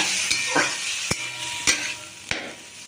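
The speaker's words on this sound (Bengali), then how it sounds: "দেখো শাকটা এবার আমি এই ফোড়নের মধ্যে দিয়ে দিলাম" Spinach sizzles in a hot spice tempering for a Bengali shak ghonto, with a constant close frying hiss broken by several sharp knocks and scrapes of a stirring spoon against the pan.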